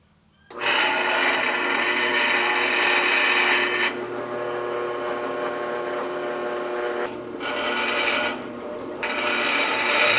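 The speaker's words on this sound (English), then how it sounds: "So let's go ahead and get this drilled out real quick, and then we'll get it tapped." A hole being drilled through a car door hinge on a GTO restomod as part of a hinge rebuild, a loud, continuous grinding whine that starts abruptly and runs with slight dips in pitch and load, close up.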